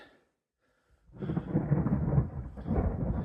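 Thunder from a distant storm rumbles in after a brief silence during a mountain hike, a deep rolling roar that swells, dips briefly and rises again, heard alone.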